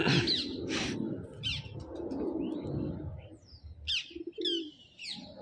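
Pigeons coo in soft, low, throaty bursts nearby, mixed with some higher chirps and rustling, with no one speaking.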